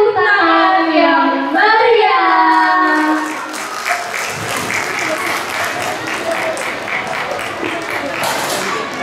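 Audience applause at a graduation ceremony, starting under a voice and a sung or called-out phrase, then settling into steady, fairly loud clapping from a crowd that carries on to the end.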